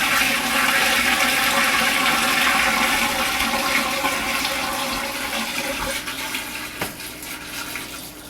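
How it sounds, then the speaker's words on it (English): Water is poured through the toilet into an RV black tank: a steady, loud rush and gurgle of flowing water that gradually eases and fades toward the end, with no talking. "when the water comes flowing down there, it's going to mix it up a little bit"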